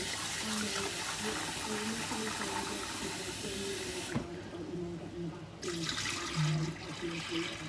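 Rice being rinsed in water to wash it in a home kitchen, with running tap water and sloshing, swirling water at steady volume, briefly quieter midway before the flow resumes.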